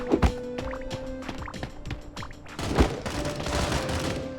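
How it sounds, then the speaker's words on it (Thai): Gunfire in the cartoon shooter game Sausage Man, sharp shots in an irregular rapid string with a louder cluster of firing toward the end, against busy game background noise. "ยิงไปแล้วหนึ่ง"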